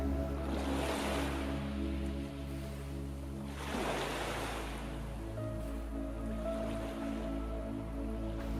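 Gentle sea waves wash and surge around a small boat in two soft swells, quiet and steady with a low continuous rumble beneath and no voices.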